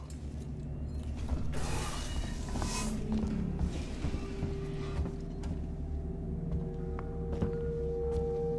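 Metallic creaking and grinding of a door seal mechanism in the sci-fi survival game Alien: Isolation, with a steady ratcheting hum and a rising mechanical whine that carries on over several seconds.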